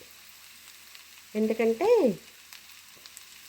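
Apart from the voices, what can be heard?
radish pieces frying with onions in a pan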